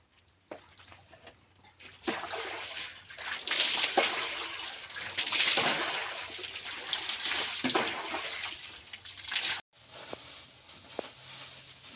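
Water sloshes and splashes continuously in a basin during rinsing, with a steady running stream and a brief pause near the end, heard fairly close and alone.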